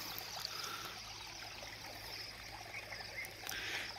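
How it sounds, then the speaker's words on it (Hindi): A village stream flows quietly at a distance, a soft continuous watery rush with faint trickles and a low steady hum underneath, no voices. "देखो पानी का आवाज़ कितना अच्छा लगता है"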